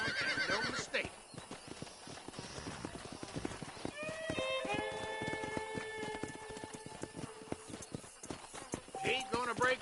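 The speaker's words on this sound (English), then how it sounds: "This steed looks right fetchy, I don't mind telling. Good luck, son. He's a wild one, and no mistake." In the Red Dead Redemption video game, a wild horse neighs loudly in a clear whinny while hooves clip-clop in a fast, uneven rhythm, with game dialogue around it.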